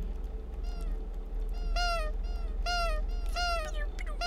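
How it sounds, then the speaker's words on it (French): A pet cat meows several times in clear, drawn-out calls, close and loud, with a steady low hum beneath. "Mon chat quand il miaule."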